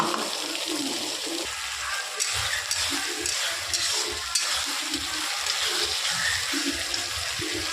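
Ginger garlic paste with dried red chilli and onions fries in a pan for mutton curry, a steady sizzle with intermittent stirring scrapes and clatters, close and continuous.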